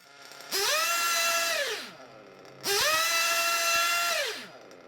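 A nitro RC engine, being carb-tuned at its high-speed needle, screams up to full revs twice, each burst holding a steady high whine for about a second before dropping back to a low idle.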